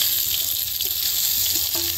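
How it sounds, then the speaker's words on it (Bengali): Pieces of pointed gourd fry in mustard oil in a pan, giving a steady bright hiss and sizzle with faint clinks of stirring. "আমি বারোই পটল হালকা লাল লাল করে ভেজে নিচ্ছি"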